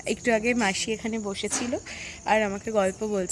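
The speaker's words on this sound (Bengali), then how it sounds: "ঝিঝি পোকার ডাক শোনা যাচ্ছে।" Crickets chirp in a steady high drone on a quiet evening in a rural spot surrounded by trees, faint beneath a person talking nearby.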